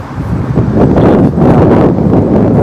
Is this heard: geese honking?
no